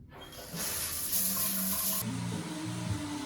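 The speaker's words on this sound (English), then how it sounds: "Time for a much needed shower" A home shower runs in a steady, close hiss that swells after a brief start, then settles into a softer stream with faint clatter underneath.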